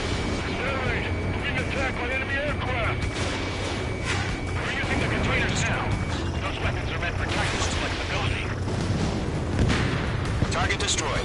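Anti-aircraft guns firing with explosions in Ace Combat, a dense, continuous barrage of thuds and blasts over rumbling engine noise, with voices talking throughout.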